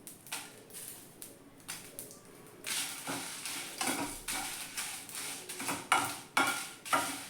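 Chillies dry-roasting and stirred in a pan for homemade sambar powder: soft sizzling with repeated scraping and clinking strokes of a spatula against the metal, close and fairly quiet, no talking.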